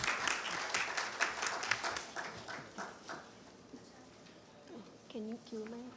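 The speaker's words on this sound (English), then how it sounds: "Please welcome her with a big round of applause." An audience at a Maharashtra CSR summit applauds a speaker with dense clapping that tapers off over a few seconds, followed by brief talk.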